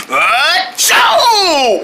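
A cartoon character gives a loud, close sneeze, a rising breathy wind-up followed by a sharp burst, delivered by a voice imitating the sound.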